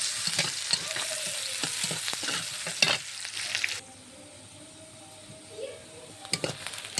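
Onions fry in oil and are stirred before a paste of cumin, ginger, garlic and dried chilli joins them; a bright sizzle with scraping stirs drops abruptly to a quieter simmer, then more stirring clatters.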